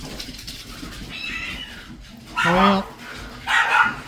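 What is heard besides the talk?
cat and dog fighting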